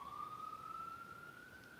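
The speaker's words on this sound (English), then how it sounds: "there goes a siren." An emergency vehicle siren sounds in the distance, faint and steady, holding one rising tone that continues throughout the short stretch, with no talk over it.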